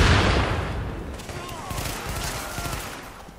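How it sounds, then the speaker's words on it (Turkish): A thrown bomb detonates in the game The Division: a loud, dense burst of explosive blasts and crackling that rolls on for several seconds in a ruined, plague-emptied city street, with scattered gunfire-like pops layered through the blast. "Bomba atacağım, patlatacağım."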